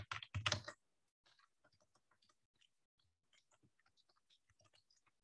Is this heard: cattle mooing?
no